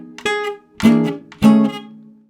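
A short jazz guitar phrase, three plucked note groups ringing out in quick succession, played alone and close.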